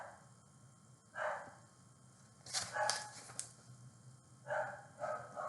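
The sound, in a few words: dogs barking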